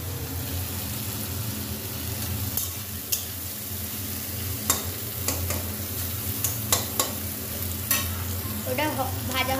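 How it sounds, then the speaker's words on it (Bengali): Onion, potato and carrot frying in a pan while noodles are being made, a steady low sizzle with occasional sharp clinks of a utensil stirring against the pan. "পেঁয়াজটা ভাজা ভাজা হচ্ছে।"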